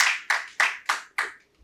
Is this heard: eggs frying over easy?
no